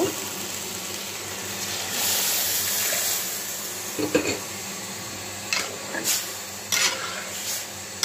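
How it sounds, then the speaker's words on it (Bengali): Water poured into fried rice in a cooking pot at home: a soft, rushing pour with faint sizzling, followed by a few scattered clinks and splashes, fairly quiet and with no talking. "চালটাও কষানো হয়ে গেছে, এখন জলটা দিয়ে দিব।"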